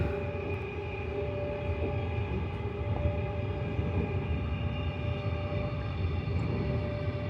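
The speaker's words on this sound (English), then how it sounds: "This is a Brisbane City and Springfield Central train, running express from Northgate to Bowen Hills" A Brisbane suburban train runs express between Northgate and Bowen Hills on the Redcliffe Peninsula line, heard from inside as a steady, even rumble and hum of motors and wheels, with no talk.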